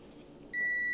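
A circuit tester gives a single sharp electronic beep on a circuit terminal, starting halfway through after a quiet hum and holding steady and loud to the end.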